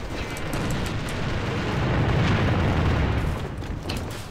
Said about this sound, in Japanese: 手榴弾投擲。